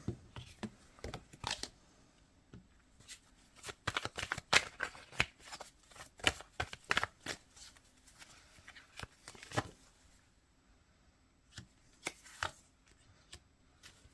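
Tarot cards being shuffled and drawn during an earth-sign reading for 2024, with quick crisp riffling bursts and snappy flicks in uneven clusters, close and fairly quiet with pauses between.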